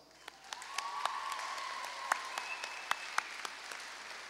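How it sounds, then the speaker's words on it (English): A graduation audience applauds the teachers and staff, a steady wash of clapping from a crowd, fairly close, with scattered sharper individual claps and a few faint whistles rising through it. "Let's give the teachers and staff a huge round of applause."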